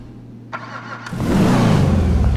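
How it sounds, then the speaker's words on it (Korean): A Declasse Vigero classic muscle car in GTA5 with chrome bumpers and twin exhausts starts up, a brief crank and catch followed by a loud, steady rumbling idle that fills the rest of the moment, with no talk. "제가 엔진 소리 한번 들어볼게요"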